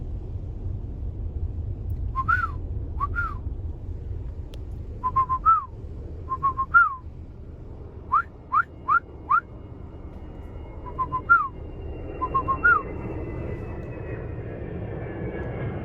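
Short two-tone whistles made by a person calling to a small group of deer outdoors at evening, repeated in bursts of two to four over steady low rumble from a passing airplane.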